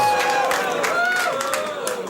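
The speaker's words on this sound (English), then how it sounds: "the whole tenor of this crowd has changed now" Studio audience crowd at a late-night talk show taping during a Triple H wrestling appearance, a loud, steady roar of cheering and clapping with whoops rising and falling, people talking underneath.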